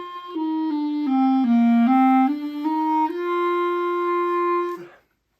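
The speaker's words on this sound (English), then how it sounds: "the other thing that you want to make sure that you aren't doing is pinching off the vibrations of the reed" A clarinet played with a pinched embouchure that chokes the reed, producing a thin, slightly fuzzy tone; a slow stepwise line of held notes dipping down and back up, close and solo, finishing on a long sustained note.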